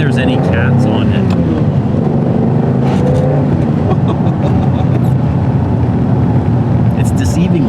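A 1988 Ferrari Testarossa with a 4.9-liter flat-12, Euro-spec stock exhaust, drones steadily and loudly throughout, with people talking over the engine.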